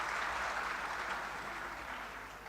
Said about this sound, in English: You can clap about that.